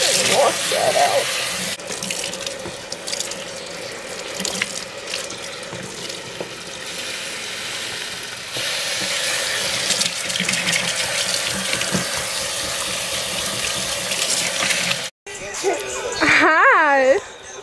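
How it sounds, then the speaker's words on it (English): Running water rinses conditioner out of hair, a steady broadband tap flow through most of the stretch. Toward the end it cuts briefly, then turns into voices talking. "I'm just gonna put some conditioner in and wash that out."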